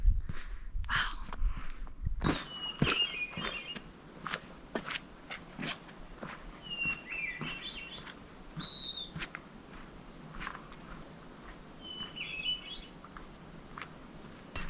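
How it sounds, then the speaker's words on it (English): Footsteps crunch irregularly on a mountain trail while several birds chirp in short, clear bursts from a distance, with quiet outdoor ambience between. "All I can hear is my feet on the ground and the birds chirping."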